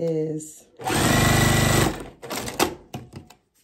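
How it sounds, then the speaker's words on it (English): A sewing machine stitches quilt block pieces together in one loud, steady, fast mechanical burst of about a second. Quiet handling noises and brief speech come before and after it. "I think I'm gonna go ahead and sew this third one together"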